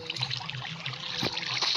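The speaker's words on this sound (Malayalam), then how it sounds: "അയ്യോ ഇതിനകത്തോട്ട് വെള്ളം ഇറങ്ങുമായിരുന്നോ?" Flowing water in the video game Minecraft gives a soft, steady trickling wash that runs quietly and continuously throughout, with no speech.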